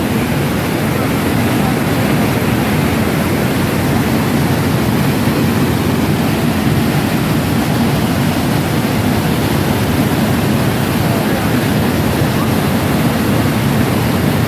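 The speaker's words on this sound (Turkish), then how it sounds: "Evet, meşhur Manavgat şelalesi bu işte." Manavgat Waterfall roars steadily and loudly, a dense unbroken rush of falling water with no pauses and no voices.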